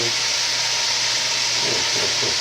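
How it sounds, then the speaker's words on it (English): Hamburger meat browning in a pan for chili gives off a loud, constant broadband sizzle and hiss, close by, with no clear pauses or breaks. "Just keep browning this hamburger."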